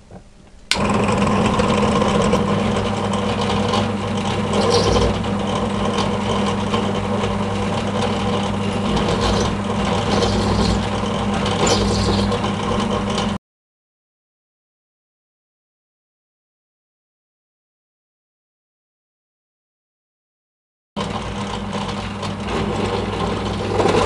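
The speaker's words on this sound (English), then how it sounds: "There's my small drill press machine all set up to chamfer those 4 millimeter holes to remove the burrs." A small drill press with an X and Y cross table chamfers 4 mm holes in a metal housing plate, giving a loud steady mechanical whir with rattling. A long silent gap follows, and then the running resumes.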